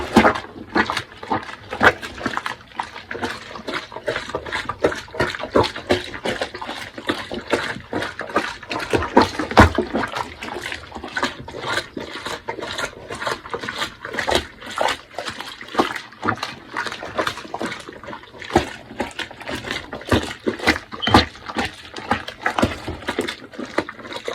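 Water sloshes and splashes rhythmically as clothes are hand washed with soap in a bathtub, with repeated quick plunging strokes continuing steadily for the whole stretch.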